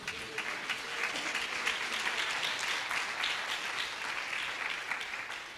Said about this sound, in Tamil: அவருக்கு ஒரு கரகோஷத்தை கொடுப்போமா